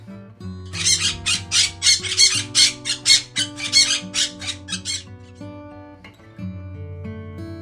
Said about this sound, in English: Parrot, tota.